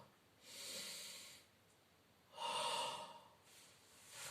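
Two long, slow breaths during a Pilates leg exercise, a soft airy inhale followed by a stronger, louder exhale, close and quiet, with the start of another breath at the end and no talking.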